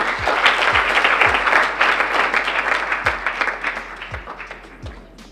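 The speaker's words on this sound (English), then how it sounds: "Round of applause, ladies and gentlemen" An awards ceremony audience claps in a full, close burst of applause that gradually thins and fades over a few seconds, with a low thump now and then underneath.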